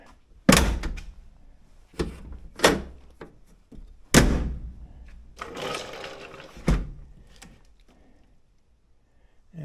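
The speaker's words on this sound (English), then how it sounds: "I'm gonna go around and open it" The door of a 1932 Studebaker is worked open and shut, giving several heavy thunks and metallic clunks at irregular intervals, with rattling from the panel between the louder knocks, all close and without voices.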